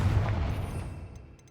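A Confringo fire spell blasts in Hogwarts Legacy, a single booming explosion that starts loud and rolls off into a fading rumble, with faint chiming tones near the end.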